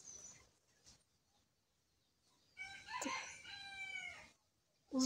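Outdoors on a rural farm with chickens roaming about, a rooster crows once in a loud, drawn-out call midway through, with a few faint bird sounds before it in a quiet setting.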